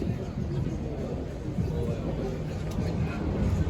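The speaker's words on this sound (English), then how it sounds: "Judging by that sound, trains approaching." A train approaching the Lincoln High Street level crossing, heard as a steady low rumble and broadband noise that slowly grows slightly louder from a distance.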